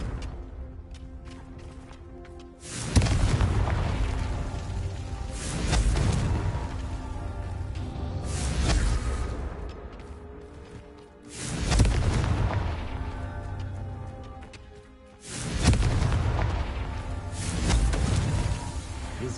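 Confringo spell blasts from Hogwarts Legacy go off as four or five heavy booming explosions, spaced a few seconds apart, each a loud burst that slowly rumbles away under a steady magical hum.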